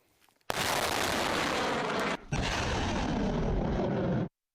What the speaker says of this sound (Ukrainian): Зараз буде залп.